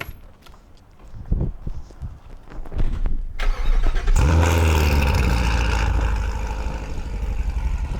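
A few clunks and clicks, then a 2023 Corvette C8 engine with headers and X-pipe cranks and roars to life, settling into a loud, deep, rumbling idle from its exhaust.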